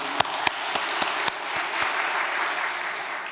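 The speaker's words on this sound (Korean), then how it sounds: "정말 감사의 박수 올려주시면 감사하겠습니다" Worshippers at a Korean church gathering clap together in a warm, continuous round of applause, with a few crisp individual claps ringing out early before the sound settles into an even patter.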